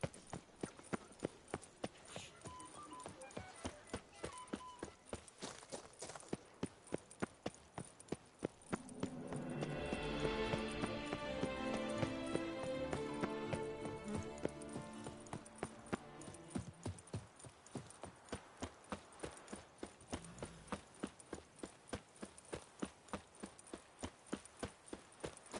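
The horse Roach gallops in The Witcher 3: Wild Hunt, Blood and Wine, with steady rhythmic hoofbeats throughout. A louder, denser burst of other game sound swells briefly in the middle.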